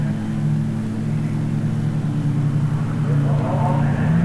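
A 2-litre touring car racing in the 1986 Australian Touring Car Championship, a steady droning engine roar held at constant pitch and loud throughout, with a faint rise near the end.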